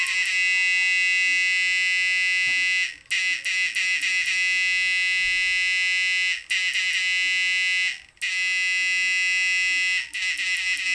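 A homemade electronic fish stunner gives off a loud, steady high-pitched electronic buzz that drops out briefly a few times and then resumes at full strength, with no voice over it.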